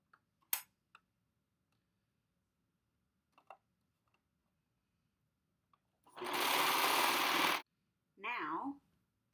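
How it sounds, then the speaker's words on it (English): A sewing machine stitches the two bottom pieces of a homemade crop top together in one steady burst of about a second and a half, then a shorter second run, with faint scattered clicks before. "I'm just going to sew until I run out of the back."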